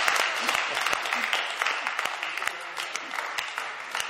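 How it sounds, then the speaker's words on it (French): At a regional EELV ecologist party meeting in Brittany, an audience applauds with steady, moderate clapping. Sharp individual claps stand out over a dense wash of applause that lasts the whole stretch. "je crois qu'on peut applaudir"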